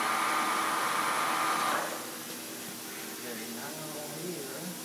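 Manual spindle of a 3-inch Supermill horizontal table-type boring mill running on its two-speed motor, a steady broadband whir that drops to a quieter, lower hum partway through, with faint voices murmuring underneath.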